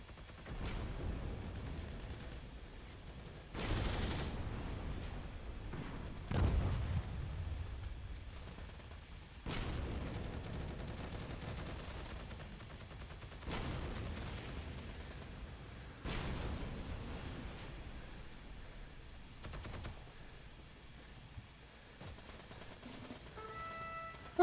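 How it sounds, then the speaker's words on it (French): Distant gunshots ring out about seven times over half a minute at uneven intervals, each a dull crack trailing into a long echo over a steady outdoor background. "Au son, je dirais que quelqu'un qui a tiré par là."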